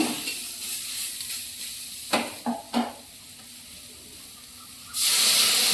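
Eggplant and tomato stirred with salt and turmeric in a pan for a Bengali koi fish curry, a soft sizzle under a few sharp utensil knocks, ending in a sudden loud burst of hissing.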